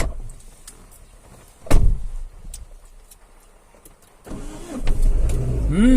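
A car door thumps shut by a river, followed by a brief pause, then an engine cranks and catches, settling into a rising idle close by.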